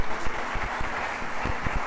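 Church conference audience applauding to welcome the apostle Eduardo, a steady dense patter of clapping with a few sharper claps, moderately loud and continuous for two seconds.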